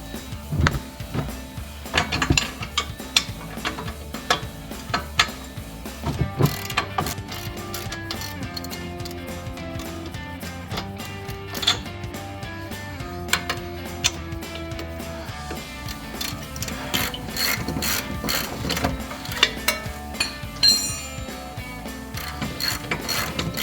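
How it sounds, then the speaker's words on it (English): A ratchet with a 21mm socket, backed by a 24mm wrench, loosens the front shock bolts on a 1994–2004 Ford Mustang, producing rapid close clicking runs of the pawl with pauses and metallic clanks between bursts. "using a 24mm wrench and 21mm socket, we're going to go ahead and remove the shock bolts."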